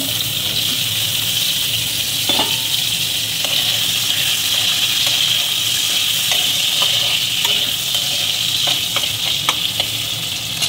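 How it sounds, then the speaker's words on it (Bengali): Potatoes fry in hot oil with a green chilli, giving a steady, loud, close sizzle that runs throughout, with occasional soft clicks of stirring. "লঙ্কাটা একটু ভাজা ভাজা হয়ে গেলে আমি আলুগুলো প্রথমে ভেজে নেব।"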